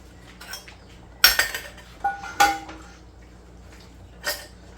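Glass canning jars for home-canned corn clink as they are set into a canner, with a few sharp, separate knocks and chinks spread out over quiet, faintly watery surroundings.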